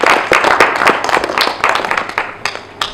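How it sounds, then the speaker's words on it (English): A lecture audience claps to welcome a guest speaker: a modest round of scattered, overlapping hand claps, fairly close, that thins out toward the end with no one talking. "Can we all give a round of applause to the Qefate?"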